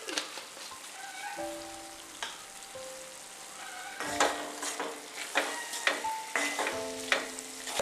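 A tablespoon of sesame oil goes into a hot pan for a pickle, and the oil crackles and spits in close, uneven bursts with brief tonal clinks over a quiet frying hiss.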